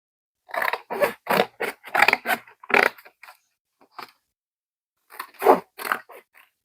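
Scissors make a quick run of crisp snips through paper, pause briefly, and then make a few more close cuts.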